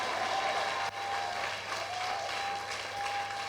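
A church congregation claps together in a steady wash of applause, fairly close and continuous, with a faint held musical tone running beneath it.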